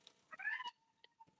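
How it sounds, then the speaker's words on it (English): A house cat meows loudly and close by, a rising then falling cry lasting about half a second, followed by a couple of fainter short chirps. "That's my cat."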